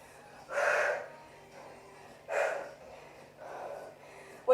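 Heavy, forceful breathing during a full-body bodyweight workout: three strong, separate breaths spaced a couple of seconds apart, close and clear against a quiet background.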